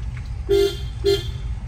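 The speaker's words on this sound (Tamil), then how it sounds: "ஹார்ன் அடிச்சுக்கோங்க." A car horn gives two short, sharp toots in a narrow Chennai street, evenly spaced, over a low engine rumble.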